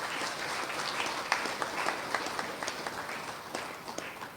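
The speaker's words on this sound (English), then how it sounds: "Give them a round of applause, please." A conference audience at a criminal justice reform event gives a round of applause, moderately distant clapping with scattered sharper claps throughout.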